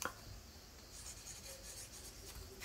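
A pencil traces lines on scrapbooking paper, a close, soft, steady scratching that runs continuously with small bursts of stronger strokes.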